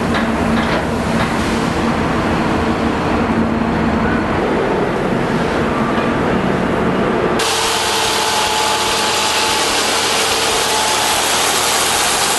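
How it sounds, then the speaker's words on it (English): A baler picks up rows of wheat straw in a field, its loud steady engine drone and mechanical rumble running continuously throughout. "This is a baler which picks up the rows of straw and compacts it into round bales."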